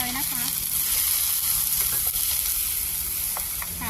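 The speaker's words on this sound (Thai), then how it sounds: "รอให้หัวหอมกับแครอทสุกก่อนนะคะ สุกแล้วใส่กุ้งลงไป" Shrimp, onion and carrot stir-fry in a hot pan with a loud, continuous sizzle and occasional spatula scrapes, close and steady throughout, with a brief voice at the start.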